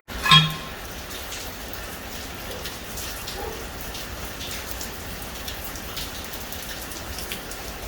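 Steady rain falls outdoors during a hurricane, a constant close hiss of drops hitting surfaces with a brief knock at the start, no voices.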